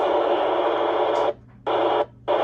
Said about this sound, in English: Let's see what that noise floor sounds like on AM.